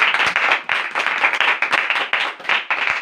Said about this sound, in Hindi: यीशु बादशाह के लिए एक बार जोरदार ताली।